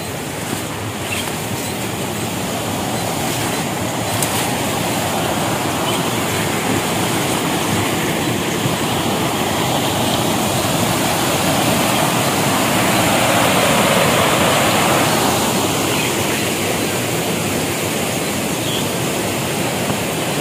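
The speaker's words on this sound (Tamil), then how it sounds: "ஸோ கீழே அருவி ஓடுற சவுண்டு கேட்குது." A waterfall flows below a steep, slippery hillside near Ooty, a steady loud rushing roar of water that carries on unbroken with no talk.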